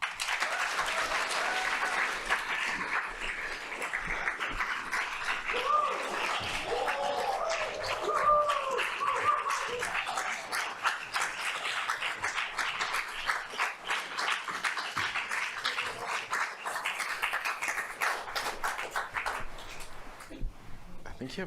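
Sustained audience applause welcoming two authors, novelists Marlon James and Kiran Desai, to a literary talk: dense, steady clapping from a large crowd that holds for over twenty seconds, with occasional murmurs and cheers mixed in.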